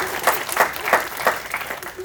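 Brief burst of audience applause at a business masterclass, a few swelling waves of clapping that rise and fall over about two seconds, heard at moderate distance.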